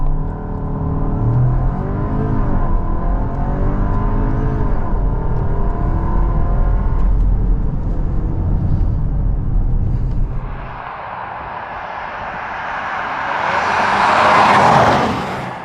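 A VW Tayron 2.0 TSI with 265 hp accelerates hard from 0 to 100 km/h. Its engine note climbs steadily and loudly, drops at a gear change, then swells into a rush of road and wind noise.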